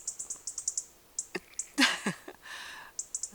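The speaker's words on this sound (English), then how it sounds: "these robins are sitting behind the camera." Two robins calling close by on a freezing-fog winter day, a run of short bright chirps and tweets in quick clusters with brief pauses, faint background and no talking.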